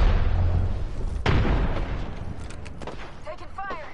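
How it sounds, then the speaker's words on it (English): Frag grenade blast in a first-person shooter, a single loud broadband boom partway through with a rumbling tail, surrounded by dense gunfire and battle noise with game voice callouts. "Throw my grenade out."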